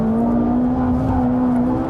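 A Ferrari 458 Italia engine drives on a track with a steady, loud sustained drone and a smooth even pitch, close and unbroken, with no talk over it.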